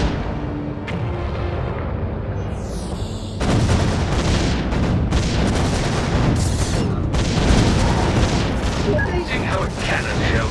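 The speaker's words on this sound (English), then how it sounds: "Amazing how a cannon shell solves any number of problems." Cannon shells firing in the video game Defense Grid: The Awakening, a dense barrage of booming blasts and bursts that keeps getting heavier and more continuous, loud and filling the whole scene.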